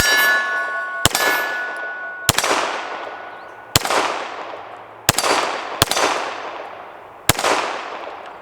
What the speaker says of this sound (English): Let's see if we can hit our little hostage popper here.